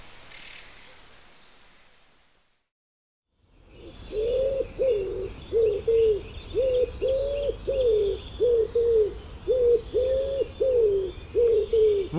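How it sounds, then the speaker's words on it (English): A wood pigeon cooing close by in a British garden, a steady series of soft, rhythmic hooting phrases repeating about a dozen times with no talk over it. "Wood pigeons are amongst the largest birds that you are likely to see in your garden."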